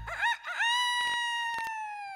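A rooster's crow rings out during a variety show number, a single loud, drawn-out call that rises and then holds a long, slowly falling tone, heard clearly on its own.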